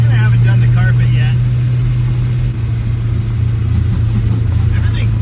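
Supercharged 1961 Studebaker Hawk pulling hard in third gear, a loud steady engine roar and drone heard from inside the car, with a brief dip, a voice briefly audible over it.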